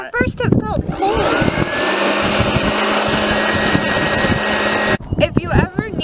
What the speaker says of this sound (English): If you ever need a substitute for a hair dryer, remember the leaf blower.